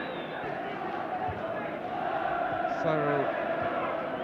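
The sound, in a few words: large football crowd at Goodison Park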